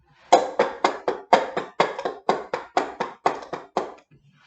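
Two plastic cups tapped on a floor imitate horses trotting down a street, producing a brisk run of about fourteen hollow clopping knocks in an even trotting rhythm, close and loud, with no talk.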